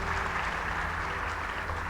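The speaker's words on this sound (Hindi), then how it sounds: "एक बार दोनों के लिए जोरदार तालियां बजाइए।" An academy event audience applauds two guests with steady, dense clapping throughout, a continuous wash of many hands in a hall.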